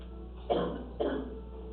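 Two short, close coughs from one person, about half a second apart, over a quiet room hum.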